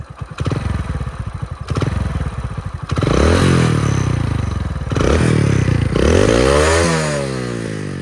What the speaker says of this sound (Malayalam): ഇപ്പോൾ ഒരു എൻജിൻ സൈഡത്തെ സൗണ്ടിൽ നമുക്ക് വൃത്തിക്ക് കേൾക്കാൻ പറ്റും.